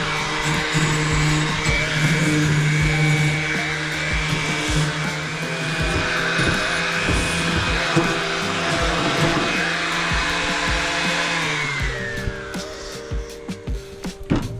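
A power sander works over the metal frame of a kids' bike trailer before painting, its motor giving a steady, close whine with scraping texture that winds down near the end.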